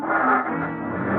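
A car revs and pulls away in a 1949 radio crime drama, a short, steady engine roar with no voices over it.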